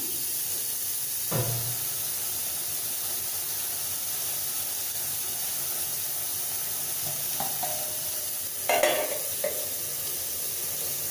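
Ridge gourd curry simmering on a medium flame, a constant low hiss and steamy sizzle with two brief clunks or scrapes, steady and close, nobody talking.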